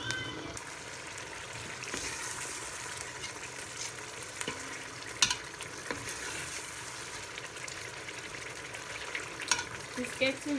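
Tomatoes fry in a hot pan for Nigerian egusi soup, giving a continuous close sizzle with occasional sharper pops and crackles, and a few faint stirring clicks rising above it.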